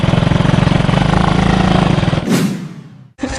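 An old, worn-out motorbike engine idling close by with a rapid, even putter, loud and steady, then a brief rev and a sharp cutoff before the engine sound returns.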